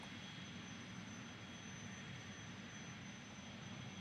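An airplane going down in the BeamNG video game, heard as a steady, faint engine drone that holds without a break and has no talk over it.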